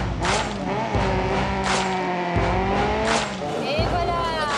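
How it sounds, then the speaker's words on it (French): A Volkswagen Beetle engine revs and roars loudly, with rising and falling revs repeated over several seconds and people talking faintly underneath. "faire rugir le moteur de sa douce."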